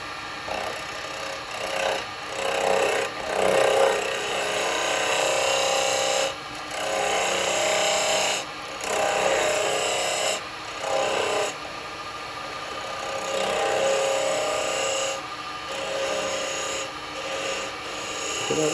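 A Christmas bell turned from wood on a lathe and cut with a carbide detail chisel gives repeated scraping, rasping passes, loud and close, broken by brief pauses between cuts.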